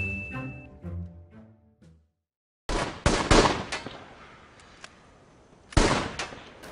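Rifle fire from a scene in the film American Sniper: after a quiet tonal passage, sharp loud shots crack in quick succession, then a scattered pause and another loud burst of gunfire.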